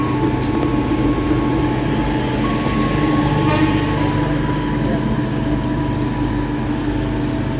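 YIA Express airport train passing through Wates station in Yogyakarta, a loud steady rumble of wheels and carriages with a faint high squeal, continuous throughout, with brief talk.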